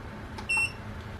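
A UV phone sanitizer gives a single short, thin electronic beep after its sterilization button is pressed, fairly quiet against a faint background hiss.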